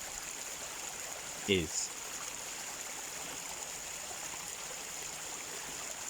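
Stream water flowing outdoors, a steady soft rushing wash that stays even throughout, with a brief spoken word breaking in near the start.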